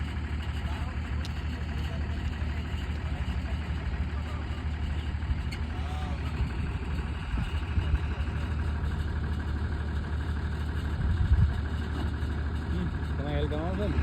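A vehicle engine idles steadily at close range, a low, continuous rumble that holds throughout, with people talking nearby.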